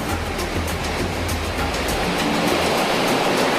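Ocean swells break and wash steadily along a coast where small fishing boats ride the surf, making a loud, continuous roar of surging water with no pauses.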